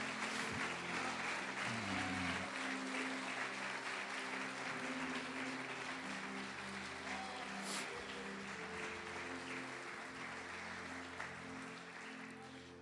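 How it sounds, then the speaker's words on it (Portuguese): A church congregation breaks into sustained, steady applause that slowly fades, with a tonal musical backing running beneath the clapping. "Pode aplaudir o Senhor e glorificar."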